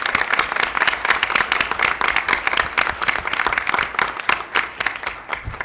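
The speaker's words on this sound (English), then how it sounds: "So please join me in a round of applause for the commemoration of the 50th anniversary of the Rehabilitation Act" Sustained applause from a town hall audience in Baltimore at a 50th anniversary commemoration of the Rehabilitation Act, dense and steady clapping filling the room throughout without speech.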